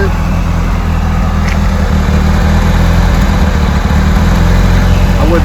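Unrestored 1985 Pontiac Fiero idling, heard from behind the car, a loud, even low engine rumble that holds steady throughout with voices in the background.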